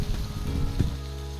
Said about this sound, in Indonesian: Selanjutnya kita tumis-tumis kangkung dan juga sambal tempenya sampai matang.